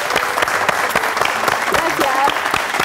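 A studio audience applauds a guest on a Spanish-language talk show: steady, dense clapping fills the whole stretch at close range, with a few voices and exclamations mixed in.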